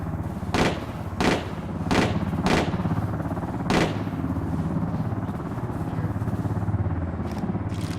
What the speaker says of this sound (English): taking fire now